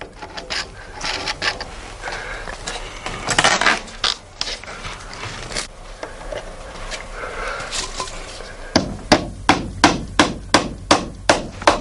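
A hammer drives nails into the wooden kelson on the keel of a small Shannon One sailing boat. Mixed workshop knocks come first, then a steady run of about eight sharp, loud, evenly spaced blows near the end.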